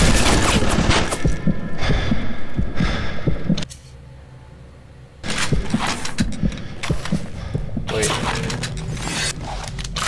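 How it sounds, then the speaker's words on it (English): Gunfire aimed at the player in the first-person shooter BioShock, dense bursts of loud rapid shots and clattering mechanisms that stop for about a second and a half before resuming, with a voice talking over parts of it. "what the fuck's shooting me?!"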